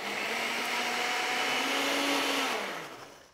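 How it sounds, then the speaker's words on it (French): A blender whirs loudly and steadily, blending canned fish with salt, pepper and a pinch of curry plus its reserved juice, its motor pitch dropping slightly as the mixture thickens before it winds down. "Et je commence à mixer."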